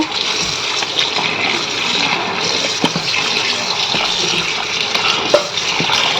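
Raw mutton pieces washed under running water, a steady close rush of water with small splashes and occasional clinks, no voices.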